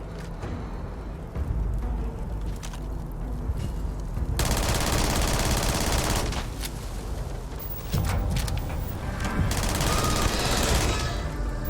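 Dense automatic gunfire and rapid bursts from a sci-fi shooter game on PC, played on very hard difficulty, loud and sustained with heavy booming surges throughout, no voices over it.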